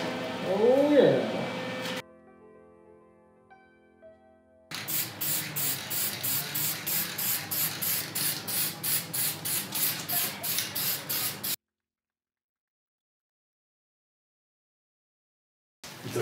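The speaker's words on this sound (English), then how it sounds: "I'll probably shoot 2 coats of primer, maybe 3." A spray can or spray gun laying down primer coats on a welded magnetic tool holder outdoors, heard as a long steady hiss pulsing in short repeated bursts, preceded by a brief other noise and gaps of near silence.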